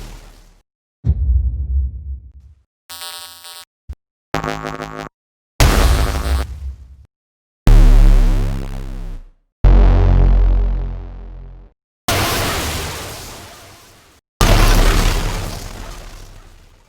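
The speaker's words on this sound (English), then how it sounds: "For the explosions, I worked again on synthesis, trying to create a unique and special effect for these electric blows" Synthesized electric explosion effects for a golem creature, a series of about nine separate loud bursts with hard attacks, sweeping tones and crackling noise tails, each decaying into silence before the next.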